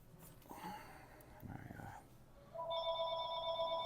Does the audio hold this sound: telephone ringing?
yes